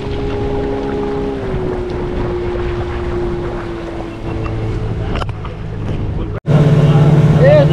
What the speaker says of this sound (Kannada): ಬೋಟ್ ಹೊರಟಿದೆ ಆಲ್ಮೋಸ್ಟ್ 2 ಅವರ್ ಜರ್ನಿ ಇದೆ.